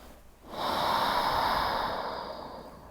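One long, steady breath drawn in and slowly released through the nose during a restorative yoga stretch, close and quiet, with no talking.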